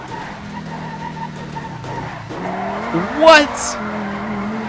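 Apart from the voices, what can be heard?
armored truck skidding sideways in GTA 5 video game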